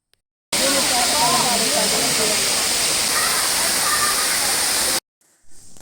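Palur Kotta waterfall in the monsoon season roars loudly and steadily, a broad rushing wash of falling water that stops abruptly after a few seconds.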